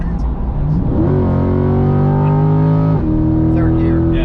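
Chevrolet C8 Corvette engine revs up loud and close, its pitch climbing steadily and then dropping sharply at the shift into third gear before rising again, with a voice talking inside the car.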